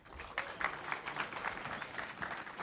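A small audience at a NASA briefing gives a short burst of scattered, moderately loud clapping that swells briefly and then fades.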